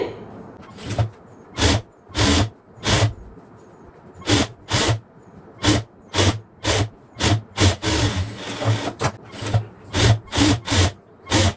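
Scissors cut a curve through fabric for a half-circle maxi skirt, a series of separate close snipping strokes in an uneven rhythm, some clustered and one longer rustle midway.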